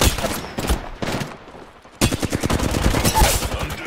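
Rapid bursts of automatic gunfire ring out in a shooter video game, loud and close, with one short volley, a brief lull, then a longer sustained stream of shots.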